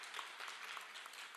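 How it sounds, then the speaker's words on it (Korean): Brief, faint audience applause at a forum panel discussion, a soft steady patter of clapping from a distance. "여러분 박수 부탁드리겠습니다."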